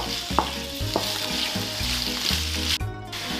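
Chanterelle mushrooms and onion fry steadily in a pan, a close, continuous sizzle with a few sharp stirring clicks and scrapes, under a low tonal hum.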